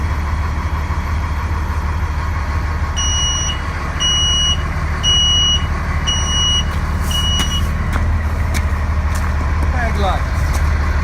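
Truck backup alarm beeping in an evenly spaced series of high electronic tones while the vehicle reverses during a pre-trip inspection, heard over a loud idling engine rumble.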